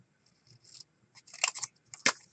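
Scissors snip through paper for a junk journal in a few short, close, crisp cuts, the last one sharpest, with quiet pauses between.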